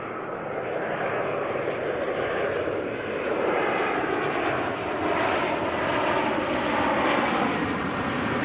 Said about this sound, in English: Jetstar 246 from Christchurch coming on in.